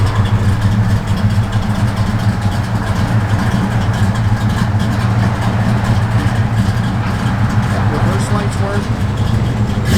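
A 1969 Dodge Charger engine idles nearby in a steady, deep low rumble that holds level throughout, with voices talking over it.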